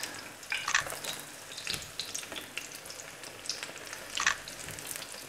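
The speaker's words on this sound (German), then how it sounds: "Und jetzt lasse ich ihn auf der anderen Seite auch noch backen." Steady sizzling and crackling of battered fish frying in hot oil in a pan, with a few louder spits and pops scattered over a continuous hiss.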